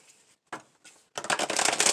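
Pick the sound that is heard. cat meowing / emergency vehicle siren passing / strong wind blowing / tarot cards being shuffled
tarot cards being shuffled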